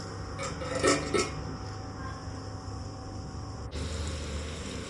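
A metal lid clanks onto a pan of chicken liver fry cooking on the stove, a few quick clinks, then a quieter settling sound over the low background hiss of the kitchen.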